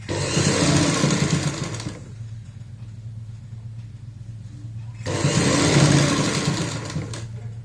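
A sewing machine stitches a baby frock in two steady whirring runs, with a quiet pause between them.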